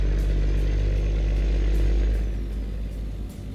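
A Cummins M11 diesel engine in a Peterbilt 388 wrecker truck rumbles steadily at idle, a deep, loud exhaust drone filling the scene with no talking.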